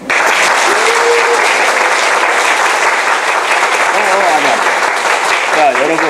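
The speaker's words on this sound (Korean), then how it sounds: "박수로 모시겠습니다" A church audience gives loud, sustained applause to welcome a pastor, a thick, even wash of clapping close by, with a few voices faintly calling out beneath it near the end.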